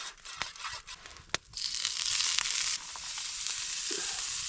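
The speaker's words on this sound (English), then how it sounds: "Got bacon chunks, green onions, yellow onions, and chives, frying in a little butter and oil." Bacon chunks, green and yellow onions and chives fry in butter and oil at a winter campsite cookout, a close, loud, steady sizzle broken by a few sharp pops and scrapes.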